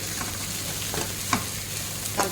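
Stuffed brinjal curry being stirred in a pan, a continuous soft sizzle with a few sharp spoon scrapes and knocks against the metal, close by and without talk.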